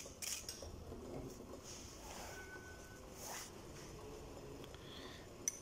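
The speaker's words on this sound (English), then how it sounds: "and mix till dissolved" A utensil stirs aluminum chlorohydrate into a small batch of homemade antiperspirant cream, giving faint, close scraping and light clinks against the container over soft background noise.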